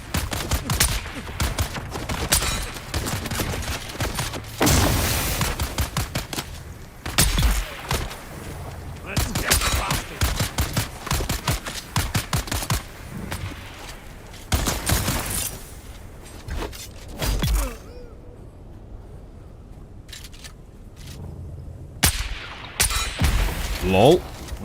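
Repeated gunfire from sniper exchanges in the video game Dune Awakening, sharp loud bursts scattered through the clip over background game sounds, with a voice talking at times.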